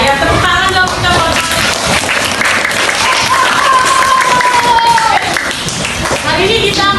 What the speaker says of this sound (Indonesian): Ya, tepuk tangan dong kita buat.